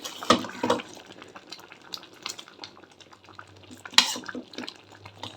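Thick homemade curd spooned into millet khichdi with vegetables: soft, wet plops and a few sharp spoon clinks against the pot, quiet and close.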